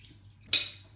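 Water thrown over sushi rice during rinsing makes one quick, sharp splash after a quiet moment, close and short, with no talking.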